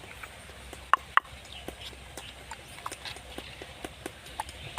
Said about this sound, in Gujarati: જો પેલો ઘોડો જો ખાલી રખડવા માંડ્યો